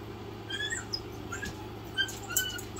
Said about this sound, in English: Got a little puppy whining.